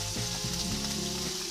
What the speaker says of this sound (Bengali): এবার এগুলো ভালো করে একসাথে একটু কাল ধরে ভাজা ভাজা করে নেব।